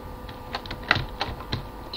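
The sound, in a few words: computer keyboard typing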